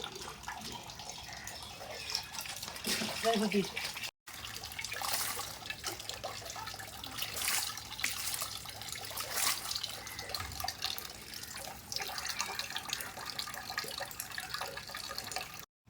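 Tap water runs steadily over a cutla fish as it is washed in a sink, with changing splashes and trickles throughout and brief drips, close and fairly loud, with no talk.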